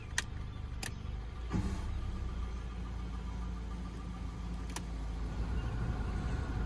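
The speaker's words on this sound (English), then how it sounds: "And test the blower motor." Blower motor of a 2014-2016 Subaru Forester running after a resistor repair, a steady low hum over the idling engine inside the cabin, with a few faint clicks near the start and end.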